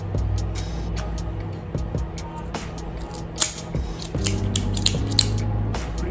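A Drew Estate Undercrown Flying Pig cigar is cut with several crisp, close snips and clicks spaced over a few seconds against a quiet background.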